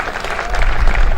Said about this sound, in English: So to Caitlin, big round of applause